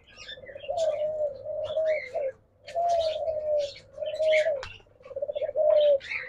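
Diamond doves at a dove farm coo in repeated soft, rolling phrases with short pauses between them, close by and fairly quiet, with a few faint chirps mixed in.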